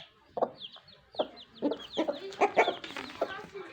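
Chickens cluck in short, uneven bursts nearby, a hen with her chicks, whose high peeping chirps are scattered over the top.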